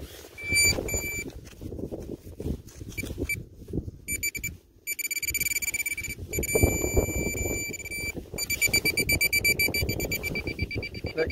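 Minelab metal detector sounding on an aluminium target outdoors, with repeated high electronic tones in bursts over loud wind and ground rumble.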